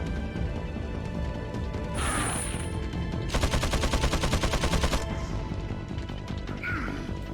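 Bowgun fire in Resident Evil 4 on PC: a hard impact crash, then a rapid string of repeated shots in quick rhythm, over continuous game background sound.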